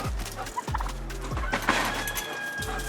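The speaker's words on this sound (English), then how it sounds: "There's the turkeys." Turkeys gobble in a farm coop during morning chores, a rapid burbling call rising over steady low background rumble, fairly distant and moderately loud, with no talk.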